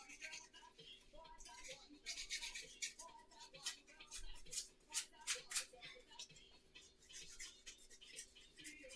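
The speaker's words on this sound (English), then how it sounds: "get this 100 grit wet and dry. Just sand it, rough this up a bit" Hand sanding with 100 grit wet and dry sandpaper, roughing up a surface for paint on a homemade armour piece, with quiet, close, irregular scratchy strokes under a faint hum and a little muffled talk.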